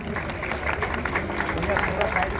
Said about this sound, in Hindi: जब तालियां बजाते हैं